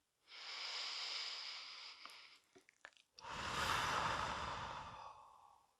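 Two long, deep exhalations during a guided relaxation, each a soft, close breathy rush lasting a couple of seconds, with small mouth sounds in the pause between them.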